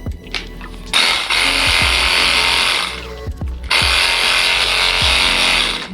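A Milwaukee M12 cordless saw runs loudly up close in two sustained buzzing bursts, with a brief drop in the motor noise between them.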